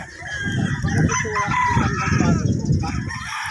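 Broodcock gamefowl roosters crowing on a gamefarm in the morning: loud, close, drawn-out crows that overlap with one another, with clucking and farmyard bustle mixed in.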